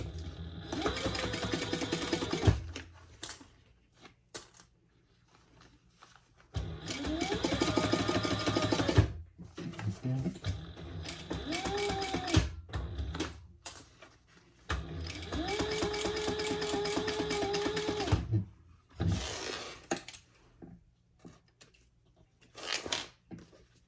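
Domestic sewing machine stitching a small fabric tulip pouch in three bursts of rapid, whirring runs with pauses between, close and steady, with light handling clatter in the gaps.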